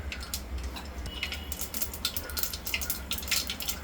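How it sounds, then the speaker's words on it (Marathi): Mustard seeds crackle and pop in hot oil for a traditional winter varan phal, a close, quick scatter of sharp irregular snaps over a soft continuous hiss. "मोहरी छान तडतडू द्यायची"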